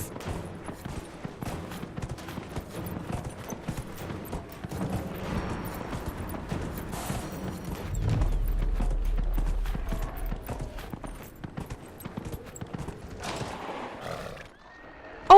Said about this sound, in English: Oh, they greeted me, the horses.